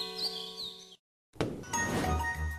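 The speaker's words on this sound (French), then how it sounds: "la cloche a sonné." A bell at an old Comté cheese house rings at seven o'clock in sustained ringing tones. A short silence follows, then a hissy outdoor wash with faint chirps.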